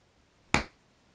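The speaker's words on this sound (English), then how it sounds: "A rather feeble clap there for synchronization" One lone hand clap, sharp and fairly soft, made to sync a Rode SmartLav microphone recording, standing alone against near silence with a brief decay.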